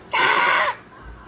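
A voice imitates a crow with a single loud, harsh caw lasting about half a second, close and alone, followed by quiet.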